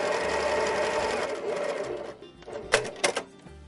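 A sewing machine runs steadily for about two seconds as it stitches pieces of fabric together, then stops, leaving a few sharp mechanical clicks and clunks up close.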